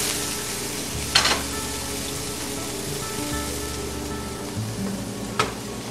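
Shallots sizzle in a frying pan with a steady, close hiss that runs throughout. A couple of brief clatters cut through the constant frying noise.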